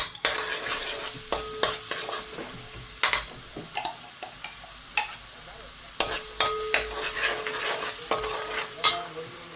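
Oil sizzling steadily in a pan while eggs are stirred for an egg bhurji, with crisp crackling throughout and repeated sharp spatula scrapes and clinks against the pan at a close, moderate level.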